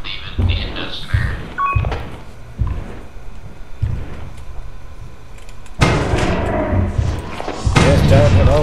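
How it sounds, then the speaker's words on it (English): Heavy thumps and thuds from a monster moving around downstairs in the video game Lethal Company land in irregular bursts, with louder clattering toward the end. "I hear the dude thumping around downstairs"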